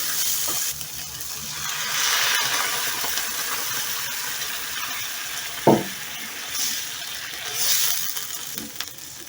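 Chanterelle mushrooms frying in a pan sizzle steadily and loudly, with water and cream poured in and a brief clink from a utensil or container partway through.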